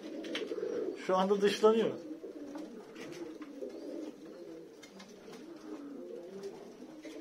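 Male and female pigeons coo close by in a low, rolling chorus that continues throughout, with a burst of louder calling early on and a voice speaking over part of it.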